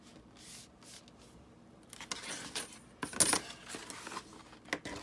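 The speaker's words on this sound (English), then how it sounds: "And then just fold it up." Cereal box cardboard is folded up, a quiet close rustle and crackle of card that grows into a sharper crinkling snap partway through, followed by softer scrapes and taps, with no speech.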